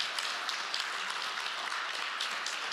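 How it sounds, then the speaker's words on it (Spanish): Applause from a church congregation for a woman named Valerie, a steady broadband patter of many hands clapping at moderate distance with no pauses. "Valerie, ¿por qué no le damos un aplauso?"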